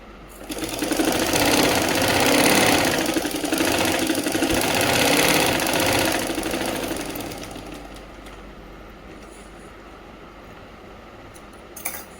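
A sewing machine stitches the belt seam of a Patiyala salwar, a loud, close, rapid mechanical chatter for about seven seconds before fading into a quieter hum and a final click.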